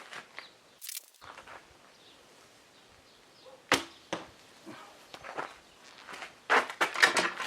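Arrows loosed from a bow while rabbit hunting, heard as several sharp twangs and thwacks in sparse sequence, loudest bursts near the end, with faint rustling between shots and no talk.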